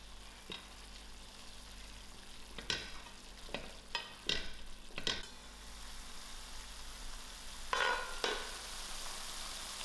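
Dried shrimp stirred together with pumpkin herbs in a pan: a faint low sizzle broken by scattered, sharp scraping and tapping strokes of a utensil, heard up close and alone.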